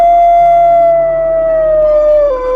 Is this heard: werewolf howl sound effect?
yes